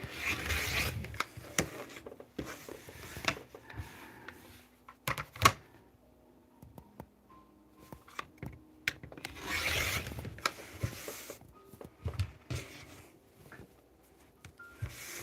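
Fabric pieces for a star quilt being trimmed, with bursts of rasping cutting strokes in short runs, fairly close and moderately quiet, separated by pauses and light handling noises.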